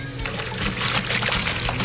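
Sand pours steadily into water in a mixing container for mortar for an interior veneer stone wall, a continuous gritty hiss and splash without a break.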